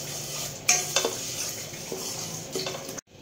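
Moong dal dry roasting in a hot pan over low flame, a spoon scraping and stirring the lentils with light sizzling hiss and a few sharp clinks against the pan, close and steady.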